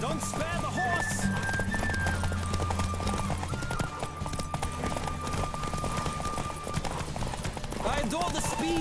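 Horse galloping in The Witcher 3 video game, steady clip-clop hoofbeats running throughout under game music and voices, with a brief whinny.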